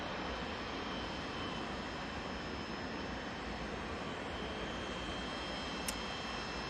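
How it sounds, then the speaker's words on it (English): A TUI jet airliner arriving at Manchester Airport after a long-haul flight from Cancun, a steady, fairly quiet broadband roar of engine noise held evenly throughout with no talk over it. "very quiet arrival from the TUI"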